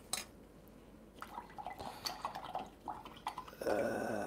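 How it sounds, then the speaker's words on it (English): A paint brush is rinsed in a container of water during a live swamp-painting session, with close, soft sloshing and dripping and small clinks, then a fuller splash near the end. "Now I need to wash that brush."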